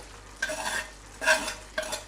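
Three short scraping stirs of a utensil through a sauce with chopped parsley in a pan, quiet and close, with a faint sizzle.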